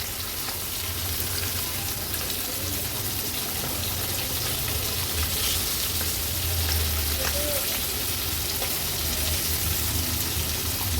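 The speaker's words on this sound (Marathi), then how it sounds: "आता एक एक करून ह्या वाकट्या आपण पलटून घेऊया. हे बघा वाकट्या तळायला काही जास्त वेळ लागत नाही" Small dried wakti fish frying in oil on a medium gas flame for a Agri-Koli style fish thali, a steady broadband sizzle running throughout with faint scrapes as pieces are flipped one by one.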